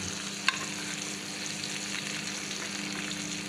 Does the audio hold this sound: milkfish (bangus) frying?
yes